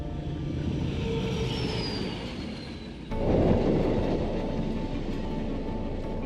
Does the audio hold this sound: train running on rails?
yes